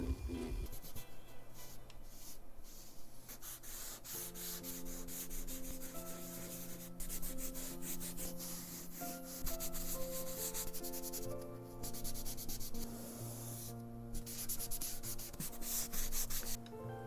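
Oil pastel is rubbed across paper with a fingertip or tissue to blend colour while drawing a potted daisy. A soft, continuous scrubbing runs quietly throughout beneath gentle background music.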